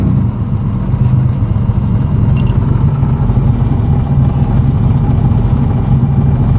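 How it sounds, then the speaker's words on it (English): A car engine running on E85 fuel idles close by, a loud, steady low rumble that holds evenly throughout without a clear start at the beginning, with no talking. "we'll just start her up, check out the air fuel ratios and kind of see what happens when we try and start the car"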